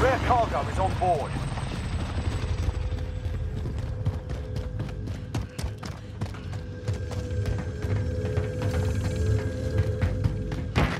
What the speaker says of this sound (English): Supply chopper's inbound.